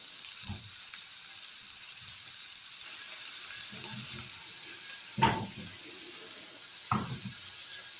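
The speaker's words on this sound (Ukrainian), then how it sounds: "На суху сковорідку викидаю борошно, і воно повинно нам е, обсмажитися до коричневого такого кольору" Flour toasts in a dry frying pan with a soft, steady sizzling hiss, with occasional scraping and light knocks of a utensil stirring, quiet and close.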